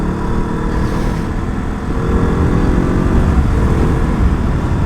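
A KTM RC200 motorcycle engine revving during a downshift, a loud, close, steady droning engine note that rises slightly in level partway through.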